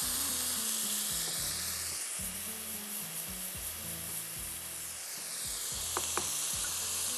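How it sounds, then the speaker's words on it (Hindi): Minced meat frying with yogurt in a pot, a soft continuous sizzle close by with a low rhythmic pulsing underneath and a couple of faint clicks near the end. "दही डाल के मैं ज़रा सा इसको भून के कवर करके छोड़ रही हूँ"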